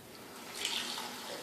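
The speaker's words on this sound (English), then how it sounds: "Rinse out the measuring scoop." A measuring scoop is rinsed under a running tap, giving a brief, soft wash of flowing water that swells slightly midway and stays fairly quiet throughout.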